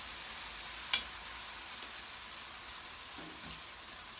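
Salmon and shrimp simmer in a pan with the heat just turned off, giving a steady close sizzling hiss with a faint clink near the start.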